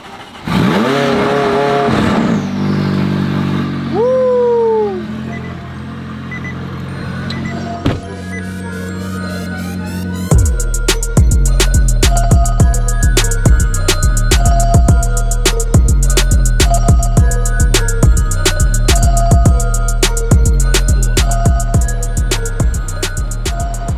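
A McLaren 600LT engine cranks and catches, then idles before a series of sharp, loud revs bark out repeatedly, close up.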